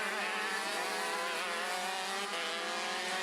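KZ2 racing karts with six-speed sequential gearboxes at a CIK Trophy final in New Zealand, their engines a dense, steady high-pitched drone of several machines running together without a break.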